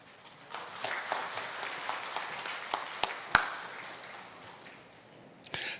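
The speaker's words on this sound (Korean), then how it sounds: "다시 한번 박수 주세요" Applause from a church congregation at a fasting prayer retreat, a soft wash of scattered clapping with a few sharper claps, moderately distant, swelling and fading over several seconds.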